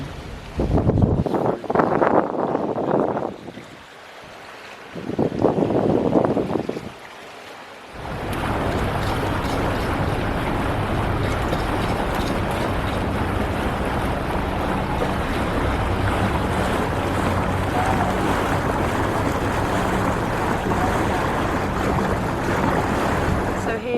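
A boat moves along an Amsterdam canal with a steady churning wash and engine drone, preceded by a few seconds of bursts and wind buffeting.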